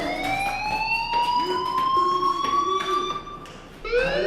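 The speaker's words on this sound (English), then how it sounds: "Hey, do you hear that fire alarm?" A fire alarm in the video game Life Is Strange rises and wails continuously, a loud electronic tone sweeping slowly upward with a brief dip before restarting, with low background sounds underneath.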